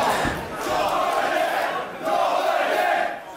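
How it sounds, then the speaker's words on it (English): Wrestling crowd in a sold-out Apollo Theatre chanting a name in a rising and falling rhythm, two swelling waves of massed voices echoing through the hall. "Chants of Dominic echoing around a sold-out Apollo Theatre here tonight"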